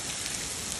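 Hail and rain falling in Pakistan, a dense, steady patter of drops striking surfaces close by with no voices.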